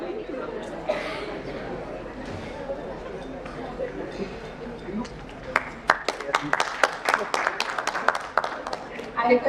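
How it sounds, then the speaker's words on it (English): At a corporate summit at an institute, audience applause starts sparse amid crowd chatter and murmuring talk, then builds into distinct, sharp, fairly close claps from a modest group of hands. "Huge round of applause, please."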